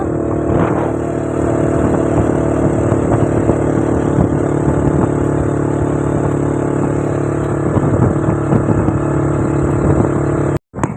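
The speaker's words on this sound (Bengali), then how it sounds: "এই যে আমার হিরো আজকে একটা বাইক চালালো।" Motorcycle ridden at the beach at Mandarmani, a steady loud engine drone with rumble and clatter running throughout, close and continuous, cutting off briefly at the very end.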